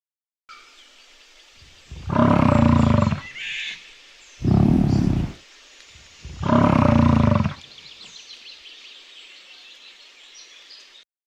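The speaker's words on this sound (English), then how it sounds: "North American bison." North American bison in a forest setting giving three loud, deep bellowing roars, each lasting about a second, close by and separated by short pauses, with soft birdsong in the background.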